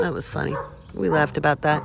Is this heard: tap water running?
no